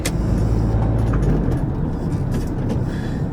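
An Australian police car passes along a road, its engine and tyre rumble heard as a steady, close vehicle roar.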